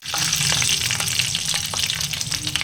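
Curry leaves and garlic sautéing in a hot pan for a Tamil pepper-cumin kuzhambu, a loud, steady sizzle with crackling spits and occasional stirring scrapes, close and alone.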